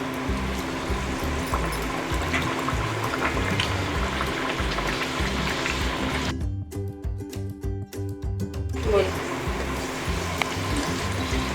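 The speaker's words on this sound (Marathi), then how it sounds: "पुऱ्या बनवून तयार झालेल्या आहेत त्यात आपण तळून घेऊया तर तेल पण गरम झालेलं आहे" Puris frying in hot oil make a steady, close sizzling and bubbling hiss that runs throughout, with a brief quieter stretch in the middle before the crackle resumes.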